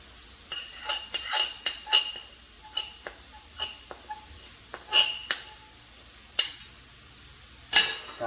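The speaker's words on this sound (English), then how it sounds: "Kind of get that stirred around." A spoon stirs a dry seasoning mix with parsley for spare ribs in a small bowl, giving sparse, close clinks and scrapes against the dish, irregular taps separated by quiet gaps.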